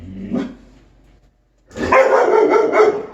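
A dog under aggression training gives a short, sharp bark, goes quiet for about a second, then breaks into a louder, rougher burst of close barking and snarling.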